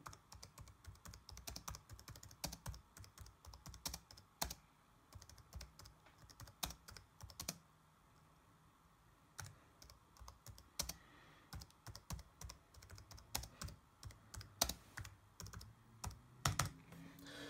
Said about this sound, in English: as you can see, you can type really easily